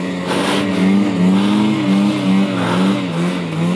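A Ski-Doo Summit Neo+ snowmobile charging uphill on a run-up, its engine loud and close, droning and rising in pitch with wavering surges as the throttle is held open.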